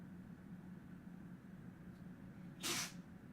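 A cat sneezes once indoors, a short sharp burst standing out over a low steady room hum.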